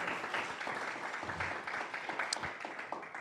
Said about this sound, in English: they deserve a great applause from us